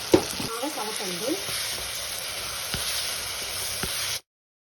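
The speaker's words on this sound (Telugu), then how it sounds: "2 స్పూన్లు కారం బాగా కలపండి" Chili powder is stirred into a sizzling brinjal and dry fish curry in a pan, giving a steady loud frying hiss with scraping stir strokes near the start and occasional clicks, then it cuts off abruptly.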